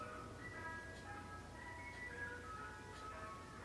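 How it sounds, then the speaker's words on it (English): A Mister Softee ice cream truck jingle plays outside, its bright chiming melody carrying steadily at moderate distance over a low background hum, with no talking. "Mr. Softy decides that today is a day that he should come around with ice cream"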